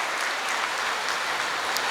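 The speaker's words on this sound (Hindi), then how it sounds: "हम सब इसके लिए जोरदार तालियां बजाकर अभिनंदन करें।" A gathered audience bursts into loud, dense, sustained applause at a gurupurnima gathering, a steady wash of many hands with no voices over it.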